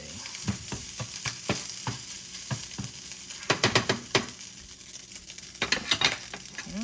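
Taco skin fries in a little oil in a pan, a soft steady sizzle under repeated clacks and stirring scrapes of a utensil against the pan, some in quick clusters.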